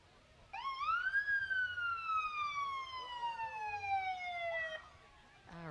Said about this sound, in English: We heard a siren, but we're not quite sure where that was from.